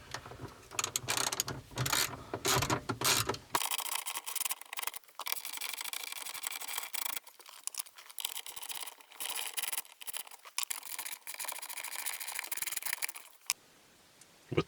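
Ratchet or socket tool working 8mm bolts that hold the radio in an Audi A4 B8 dash, giving close, repeated clicking and metallic mechanical turning with brief pauses, alone without talk.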